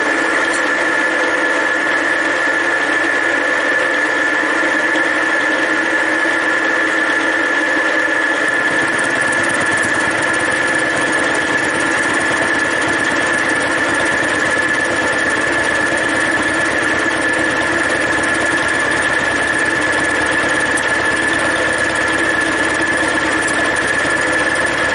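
A milling machine cutting at 2 mm depth, a loud continuous motor hum with a steady high tonal whine that deepens and roughens partway through as the cutter engages, no talking.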